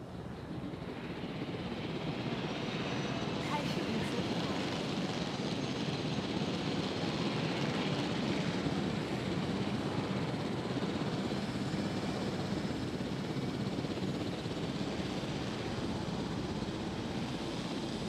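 A helicopter in the video game Jurassic World Evolution gives a steady, unbroken rotor and engine roar that fills the whole stretch at an even loudness, with no talk over it.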